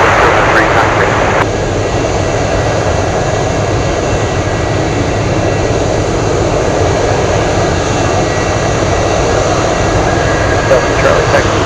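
Jet airliner taking off at Anchorage airport, a loud steady engine roar filling the whole stretch without letting up, with a voice heard over it.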